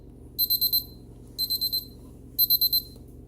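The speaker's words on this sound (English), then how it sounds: "So the timer goes off." Kitchen timer going off while a goat cheese chicken dish cooks, three bursts of four quick high beeps each, steady and fairly close over a faint low kitchen hum.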